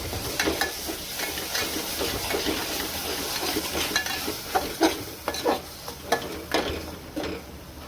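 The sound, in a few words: onion and curry leaves frying in oil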